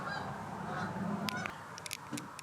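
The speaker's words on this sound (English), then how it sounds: "Hear the geese outside." Geese honk outside in a few short, scattered calls, fairly faint and distant over a low background hum.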